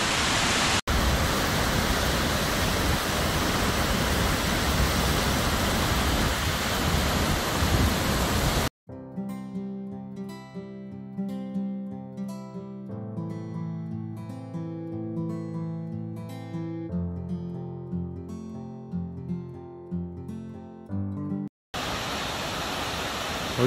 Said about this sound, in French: On voit toute la longueur des cascades.